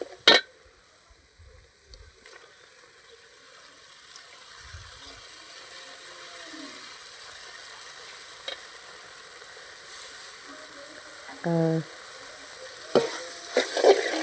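Meat frying and being stirred in a pan with sautéed onions: near-silence at first, then a steady moderate sizzle builds and holds, with a few sharp utensil clinks and scrapes toward the end and no voices.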